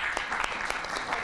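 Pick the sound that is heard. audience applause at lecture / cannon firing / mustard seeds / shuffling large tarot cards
audience applause at lecture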